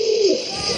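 A pigeon gives a single close, loud, low coo that slides downward, with steady background noise and no talking.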